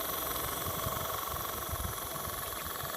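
A restored live steam turbine engine from the 1950s or 60s runs smoothly and fairly quietly, a continuous even whir with a low steady hum and no rattling, heard alone.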